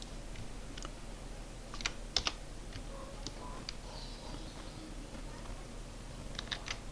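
Scattered keystrokes click on a computer keyboard, irregular bursts of close, crisp taps with short gaps, a few louder presses standing out over a quiet hum.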